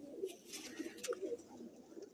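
Pigeons on a rooftop coo softly in a few low, rolling bursts, faint and somewhat distant, with a little background noise and no clear speech.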